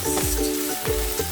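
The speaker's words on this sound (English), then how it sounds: "The blend of mushrooms coming next, and then we'll put in the steak last." A mixed blend of mushrooms sizzles loudly in a hot pan, a dense close crackle with a couple of quick stirring scrapes over a short stretch.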